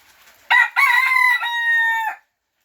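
A single loud rooster crow rings out close by, lasting under two seconds before cutting to silence.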